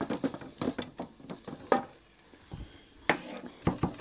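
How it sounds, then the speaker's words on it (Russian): Garlic and a sprat soup base fry in a pan, a steady sizzle broken by repeated close scraping stirs at an uneven rhythm, with no voices. "Нет, обжарю-ка я с чесночком это дело все."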